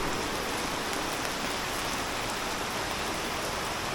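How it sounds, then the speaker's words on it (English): Heavy rain pouring down in a city, a dense, constant hiss of drops that stays close and loud with no break. "Look at this rain."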